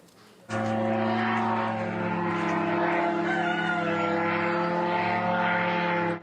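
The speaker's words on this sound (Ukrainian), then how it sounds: "На фоні кукурікають півні та літають дрони." A steady droning hum of drones flying over a village at dawn in Savasleyka, Nizhny Novgorod region, fills the air continuously; no clear rooster crow stands out over it.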